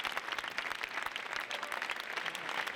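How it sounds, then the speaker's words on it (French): A Cannes festival audience on its feet applauding the film team of Annette, with dense, sustained clapping and crowd noise filling the space evenly and loudly throughout. "toute la salle pour applaudir l'équipe du film."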